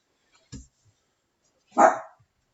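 A single loud dog bark close by, preceded by a brief low thump, with quiet around it.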